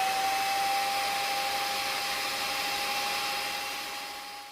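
A cheap Sunbeam stand mixer kneads Hawaiian bread dough with a steady, whining motor hum that holds evenly before tapering off at the end.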